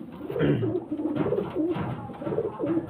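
Domestic pigeons at a breeder's home in Bengal coo in steady, rolling bursts close by, several low throaty calls overlapping with no talk over them.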